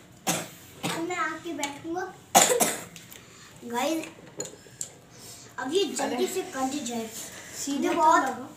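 A child coughs in several sharp bursts between stretches of someone talking, with faint clinking of dishes nearby.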